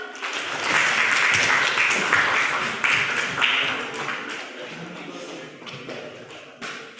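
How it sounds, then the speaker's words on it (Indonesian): Students in a classroom clap together as a group, a dense burst of applause that is strongest at first and then thins out into scattered claps and shuffling, with some voices in the background. "Berikan aplaus."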